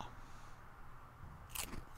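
Chewing and crunching from eating watermelon in the zombie survival video game Project Zomboid: a short burst of crisp crunches and bites near the end, fairly faint over a quiet background.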